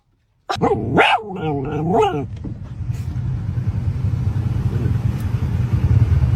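A puppy lets out a rapid string of high, yelping barks close by, followed by a rough, continuous rumble that sounds like a passing vehicle.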